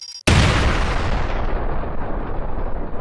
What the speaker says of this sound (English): If the player is blown away immediately after the bomb explodes